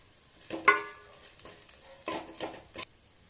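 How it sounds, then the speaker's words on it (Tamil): Masala-coated chicken fried rice stirred in a pan at a street-food stall, giving a few scraping, rustling strokes with a light sizzle, close and moderately loud with quiet gaps between strokes. "இதெல்லாம் போட்டு ஒரு கிளறு கிளறி விட்டுருங்க"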